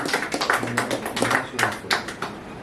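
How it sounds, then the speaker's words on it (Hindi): Audience clapping welcomes a poet at a Hindi poetry gathering, heard as uneven bursts of hand claps with some louder taps, fairly close and brief. "आप लोग जोरदार तालियों के स्वागत करें"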